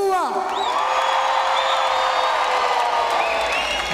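Concert crowd at a live tribute show in a theatre, shouting and cheering continuously as a dense, steady roar with occasional whoops rising above it.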